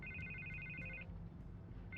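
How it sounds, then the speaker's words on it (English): Telephone in the Batman Telltale series video game ringing in short repeated electronic trills, a burst, a pause, then another ring starting, set against a low steady background rumble. "I can't get the phone to stop ringing."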